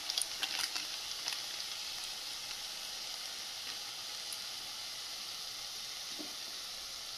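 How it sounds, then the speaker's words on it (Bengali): Spice masala for katla kalia fries in oil with a faint, steady sizzling hiss throughout, a few soft stirring clicks near the start, with no voices. "সামান্য একটু জল দিয়ে মশলাটা ভালো করে ভেজে নেব।"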